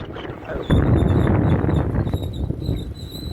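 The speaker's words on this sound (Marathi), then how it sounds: "अजून जोरदार पाऊस येत आहे" Heavy pre-monsoon May rain in coastal Konkan, India roars steadily as a dense hiss, with gusty wind noise buffeting the microphone throughout.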